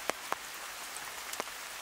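Rain falls in a Khao Yai forest where animals shelter under the trees. A soft, steady wash of rainfall carries a few distinct nearby drips and drops landing on surfaces.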